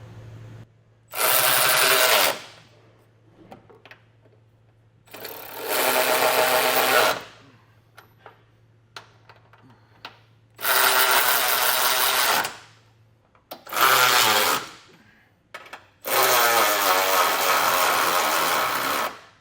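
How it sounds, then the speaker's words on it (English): Power tool driving a 19mm socket to snug down Blue Ox Class III trailer hitch bolts on a 2024 Nissan Rogue, heard as five loud close whirring bursts of one to three seconds each, separated by quieter pauses. "With a 19mm socket, and just get everything snug down."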